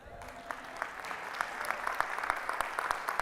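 An audience at a real estate mastermind event claps steadily at a moderate distance, with sparse individual claps standing out over the dense applause.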